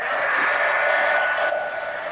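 A hair dryer drying paint on an adult coloring book page, a close, loud, steady airy roar that fills the whole short stretch with no talking.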